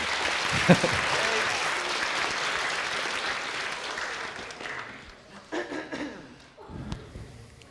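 An audience applauds steadily, loud and dense at first, then thinning and fading out over several seconds, with a few scattered claps at the end.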